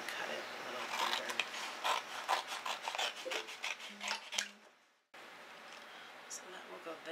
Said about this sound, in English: I'm going to cut another piece here to be another pocket.